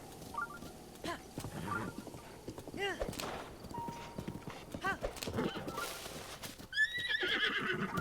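Hooves clip-clop steadily along while a horse whinnies several times, shrill and close, over a low game background hum in The Legend of Zelda: Breath of the Wild.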